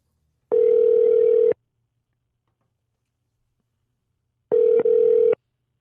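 Telephone dial tone sounding for about a second, a pause, then another steady tone briefly interrupted by a dialing blip, clear and close on a quiet line.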